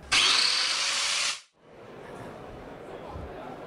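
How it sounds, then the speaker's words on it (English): An Einhell CC Grind Solid low-vibration angle grinder whines loudly and steadily for about a second, then cuts off abruptly, leaving background hall noise of a hardware trade fair. "we're trying to protect Marcos' forearms, his wrists, and his joints with less vibrations with a product like the CCI, the CC Grind Solid."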